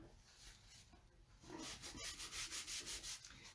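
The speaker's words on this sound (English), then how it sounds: "Just rub it in and rub it off." A cloth rubs paste wax off a handmade wooden decor piece, with soft brushing at first and then a quick run of regular back-and-forth strokes, close and fairly quiet.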